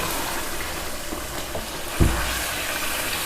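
Boiled beef trotters (paya) frying in masala in a pot, a steady close hiss of sizzling throughout, with a single soft thud of stirring partway through and no voices.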